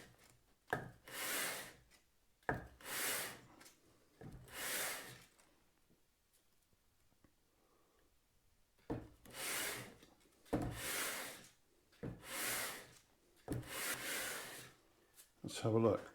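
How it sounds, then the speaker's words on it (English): The sole of a Japanese kanna wooden hand plane is rubbed back and forth on a flat tile, making long, rasping sanding strokes in a steady rhythm, with a quiet gap partway through. "Just going to sand."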